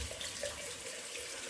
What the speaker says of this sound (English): next stage is hot water rinse.